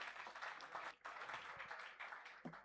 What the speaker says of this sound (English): Please, can we have a round of applause for accountancy department?